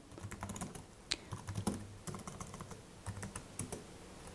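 Keys clatter on a computer keyboard as terminal commands are typed on a Raspberry Pi web server setup, a quick irregular run of clicks and taps, close and alone, ending in a sharper keystroke.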